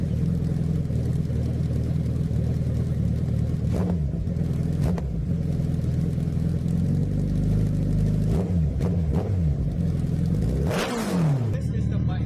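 A 2016 Suzuki Hayabusa motorcycle engine runs as a steady low rumble throughout, with a few brief throttle blips and a rising rev swell near the end; a voice talks over it.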